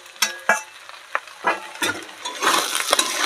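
Eggplant pieces and two halves of a katla fish head being fried and stirred in a pan of oil for a village-style fish curry, with close, loud sizzling broken by repeated clanks and scrapes of a spatula.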